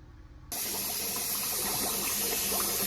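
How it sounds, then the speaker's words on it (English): Cold water from a kitchen tap starts abruptly after a brief quiet moment, then pours in a loud, steady, hissing rush that continues unbroken to the end. "I got my cold water running"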